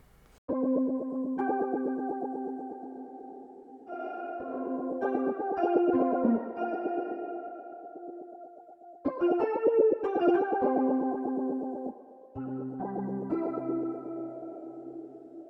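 The Fat Phaser program of the Soundpaint 1974 Jagra guitar sample library, playing sustained clean guitar chords with phaser and chorus that sweep and shimmer through a long, spacious tail, a few distinct chord changes with no voice.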